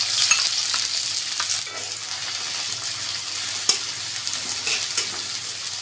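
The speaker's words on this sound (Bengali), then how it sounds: "তেলটা গরম হয়ে গেছে, দিয়ে দিব সামান্য সাদা জিরে। দিয়ে দিব আদা কুচি। দিয়ে দেবো পেঁয়াজ কুচি।" White cumin seeds, chopped ginger and onion fry in hot oil, a dense close crackling sizzle with occasional stirring clinks and scrapes, no voices.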